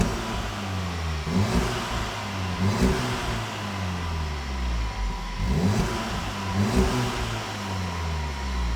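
An Audi S3 with a valved custom exhaust and GPF delete revs repeatedly, each loud, close blip rising and falling in a steady rhythm of throttle bursts over a deep idle.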